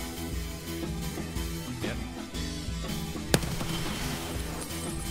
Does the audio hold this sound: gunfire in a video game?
yes